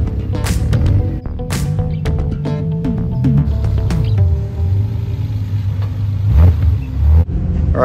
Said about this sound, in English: a lot of cars are still rolling in